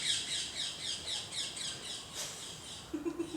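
Birds squawk in a rapid run of harsh, repeated calls, fairly close and loud at first, then fade into a softer stretch with a few lower chirps at the end.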